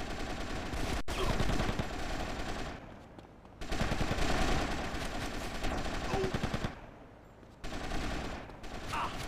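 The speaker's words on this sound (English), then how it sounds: "There is a lot of AK fire and it's kind of scaring me" Rapid automatic AK rifle fire in GTA Vice City Stories, continuous loud bursts rattling close by in long strings broken by two brief pauses.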